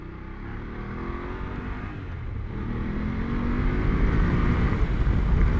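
A 2020 BMW F750 GS motorcycle pulls hard in second gear, its engine note climbing steadily in pitch and growing louder over a few seconds, with no voices.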